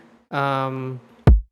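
A short voiced sound comes first, then one punchy electronic kick drum hits hard with a deep, quickly falling thump.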